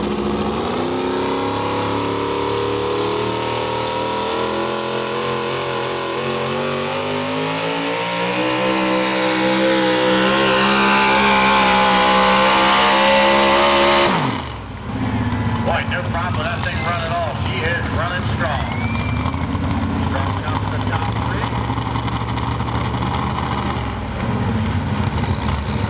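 An S10 Chevrolet pulling truck with a heavy-headed engine at a truck and tractor pull, a loud sustained roar that climbs in pitch, cuts off sharply, then gives way to rougher rumbling and crowd noise.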